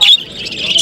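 Small birds at a bird market give a burst of high chirping and tweeting, with busy calls carrying on through the short stretch and rising again at the end, close by.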